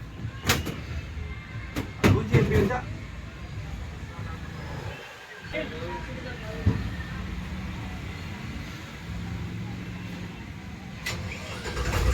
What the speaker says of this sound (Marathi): आता जनरेटर चालू करताय.